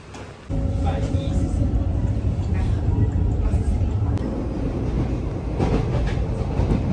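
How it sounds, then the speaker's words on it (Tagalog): A train arrives at a station in Taiwan on the way toward Shifen, its loud rumble and rolling clatter starting abruptly and holding steady for several seconds, with voices faint in the background. "Antay kami ng train papuntang Chiffen Pips."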